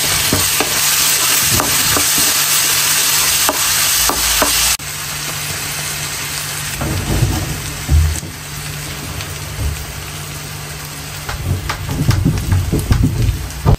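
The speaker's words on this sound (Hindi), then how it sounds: "प्याज बस हो गई है गोल्डन। अभी इसमें हम जिंजर गार्लिक ऐड करते हैं" Ginger garlic paste is frying in a pan with golden onions, cumin and nigella seeds. A loud, steady sizzle comes with stirring scrapes. The sizzle drops partway through and then crackles again, with no voices.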